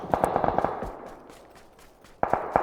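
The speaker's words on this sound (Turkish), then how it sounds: "Onlar orada durdu bana sıkıyorlar." Gunfire in PUBG: Battlegrounds comes as a rapid automatic burst of sharp, close shots, then a pause, then another quick burst.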